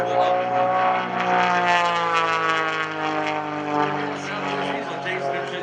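A propeller aerobatic airplane at an airshow drones loudly and steadily, its engine tone holding and slowly shifting in pitch as it flies nearby, with no talk in the clip.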